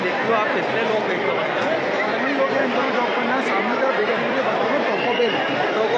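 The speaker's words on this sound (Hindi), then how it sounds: "आप लोग देखो तो कितनी भीड़ लगी हुई है खाने पीने की" Dense crowd chatter fills a busy mall food court in Indore, a continuous even babble of many voices with no pauses or single sounds standing out.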